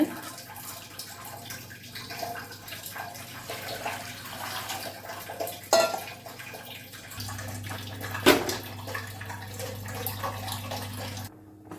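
Red poha flakes are washed in water, with continuous close sloshing and splashing, occasional sharper clunks of vessel handling, and a brief stop at the very end, with no voice.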